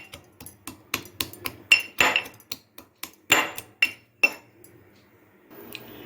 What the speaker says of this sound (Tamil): இதை நம்ம இடிச்சிட்டு தான் ரசம் தாளிக்கணும். இது நல்லா நான் கொஞ்சம் 1-2 இடிச்சுக்கிறேன்.